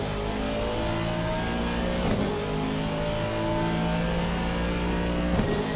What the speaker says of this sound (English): Great sound of the Aston Martin there. Real grunt to the engine.